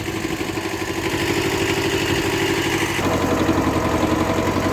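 A Japanese mini tractor engine runs steadily in low gear while planting potatoes in a field, a loud, close, throbbing drone with a slight shift in tone partway through.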